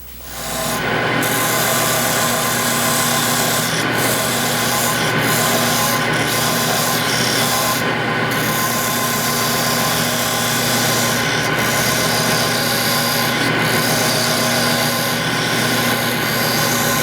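Wood spins on a lathe while a tool trims the end of a midcentury tapered leg, making a loud, continuous whirring rasp of cutting that holds steady throughout with no speech.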